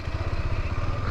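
A motorcycle engine pulls hard in first gear on a long bike trip from Kolkata toward Adi Kailash, a steady, close, low throbbing drone with no pauses.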